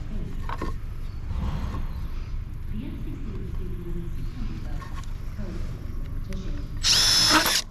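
A power drill drives screws during concrete slab prep on a building site. It gives a steady, close mechanical whir under low rumbling background noise and talk, ending in a loud, high-pitched burst as a screw is driven home.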